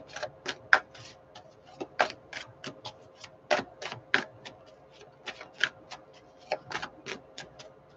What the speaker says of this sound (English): my hands don't want to stop shuffling for you